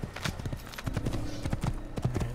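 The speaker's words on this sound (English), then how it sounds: "Alright, he's got a horse." Horse hooves clip-clop in Assassin's Creed as a mount gets going, a quick uneven run of clear hoofbeats at close range, with a faint whinny and some low game ambience underneath.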